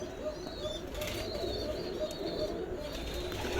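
Pigeons coo softly in a nesting loft, their low repeated calls steady under a constant background hum, with faint flutters and chirps.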